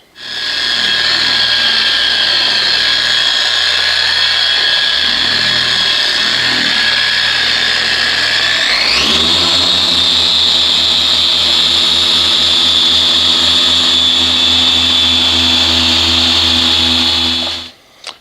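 Porter Cable polisher with a Meguiar's microfiber cutting pad buffing the hood of a black 2014 GMC Sierra, a loud steady electric whine that shifts to a lower pitch midway and runs continuously to the end.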